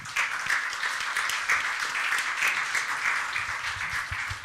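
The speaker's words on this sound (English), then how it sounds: "Please join me to applaud them." A conference audience applauds the speakers with steady, moderately loud clapping that holds evenly for several seconds.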